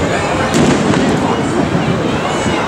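New Year's Eve fireworks over Hanoi roar as a dense, continuous wash of crackling bursts and booms, loud and unbroken, heard from above the city.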